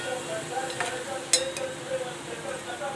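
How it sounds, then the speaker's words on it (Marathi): Dahi vada frying in hot oil until pinkish golden and crisp, with a steady close sizzle, occasional stirring scrapes and a sharp utensil clink against the pan, under quiet background speech. "छानपैकी आता याला थोडेसे आपण गुलाबी रंगावर तळून घ्यायचे"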